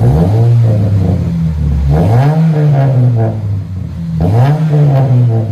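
A 2009 Chevy Cobalt 2.2L with an HKS muffler revs close by, its exhaust note rising and falling in three loud throttle pulls.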